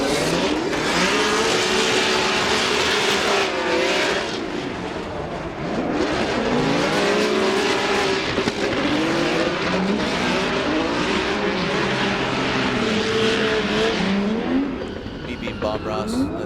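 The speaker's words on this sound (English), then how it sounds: "listen to this VR-powered 370Z" A V8-powered Nissan 370Z drift car at a Formula Drift pro event revs hard with bursts of tire squeal, loud and continuous with rising and falling engine pitch, while commentators talk over it.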